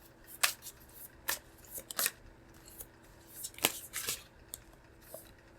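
Tarot cards being shuffled and picked by hand, heard as a series of crisp, brief paper slaps and riffles at irregular intervals, close and fairly quiet, with no talking.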